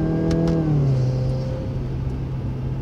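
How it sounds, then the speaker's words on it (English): A Subaru WRX with a CVT transmission accelerates in third gear, its engine note loud and close, climbing and then holding a steady droning pitch with no talk over it. "Notice how loud the car is, right? If I hit the gas now,"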